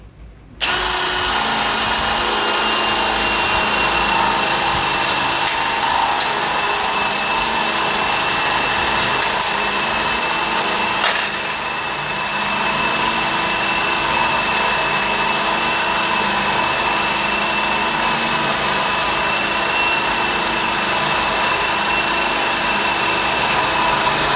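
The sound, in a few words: cordless hammer drill drilling hardwood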